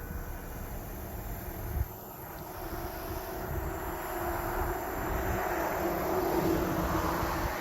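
Hydraulics on a Genie lift hum steadily as the platform climbs, a continuous mechanical drone that grows slightly louder, with no talking.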